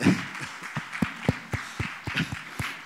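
Scattered audience applause at an awards event for Piyush Pandey, with sparse, distinct claps at an uneven rhythm rather than a full ovation, fairly quiet and heard alone without talk.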